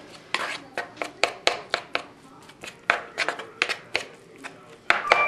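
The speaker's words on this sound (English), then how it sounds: "We're just gonna mix the rice." Seasoned rice for spam musubi being mixed in a bowl, heard as a quick series of close scraping and clinking strokes, about two per second, with no talking.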